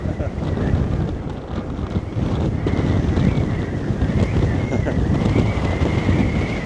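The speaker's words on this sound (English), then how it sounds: "my goodness, this wind is incredible today" Heavy seaside wind at Blackpool beach pounds the microphone in a loud, constant roaring buffet with gusts swelling and easing, no speech over it.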